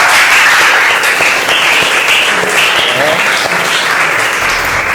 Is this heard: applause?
yes